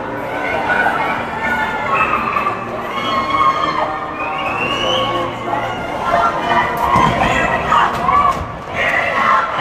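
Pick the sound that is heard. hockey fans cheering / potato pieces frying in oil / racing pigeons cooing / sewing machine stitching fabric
hockey fans cheering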